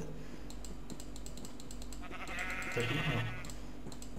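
Sheep bleating in a modded Terraria/Minecraft game world, a few wavering calls late in the clip over steady game ambience and faint repeated clicks.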